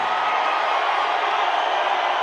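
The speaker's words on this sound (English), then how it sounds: "Listen to this crowd." A packed wrestling arena crowd roars in a dense, continuous wash of cheering, steady and loud for the brief moment with no break.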